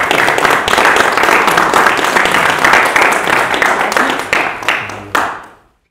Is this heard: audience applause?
yes